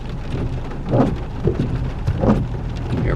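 Heavy rain drumming on a car during a highway road trip, a dense close roar of drops with low rumbling swells recurring every second or so, loud and steady, no talking.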